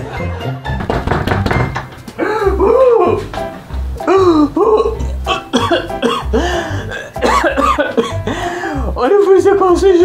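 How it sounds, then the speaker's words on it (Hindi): Elderly man coughing repeatedly in a domestic comedy scene, harsh throaty bursts in an uneven run, close and loud, mixed with voiced groans and background music. "अरे फिर से खांसी शुरू हो गई,"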